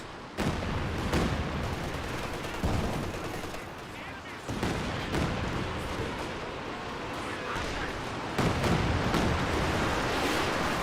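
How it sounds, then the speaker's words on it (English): An artillery barrage in the World War II strategy game Company of Heroes 2, Panzer warfare shells slamming down in repeated heavy booming impacts mixed with rattling gunfire, loud and dense across the whole stretch. "Panzerwarfare barrage here. Annihilates the Bombardiers."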